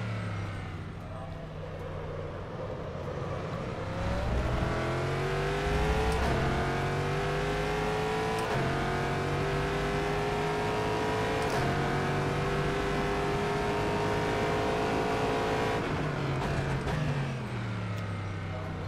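A race car in the rFactor 2 driving simulator, heard from the cockpit as the engine climbs in pitch through the gears, with sharp upshift punches and steady high revs, while someone talks over it.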